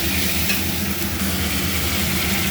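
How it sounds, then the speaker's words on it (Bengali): Masala with boiled tomato and salt is fried and stirred in hot oil for a mixed vegetable dish, making a loud, continuous sizzle with scraping stirs close by and no voices. "এরপরে ভালো করে মশলাটাকে কষিয়ে নেব"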